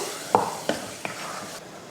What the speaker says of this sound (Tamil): அதை அப்படியேவும் அந்த தண்ணியோடையே இதில் சேர்த்துக்கணும். சேர்த்துட்டு கலந்து விட்டுருவோம்.